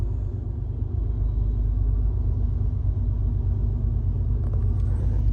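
Heavy, continuous low rumble of a train passing close to a truck parked by the tracks at night in Alabama, steady and loud throughout with faint rattling toward the end.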